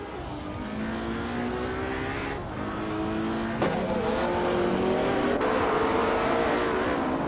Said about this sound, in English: the race kicks off at Zandvoort Oosterlijk, and the car on pole is Emerald Tick 398 in a 1995 Ferrari F50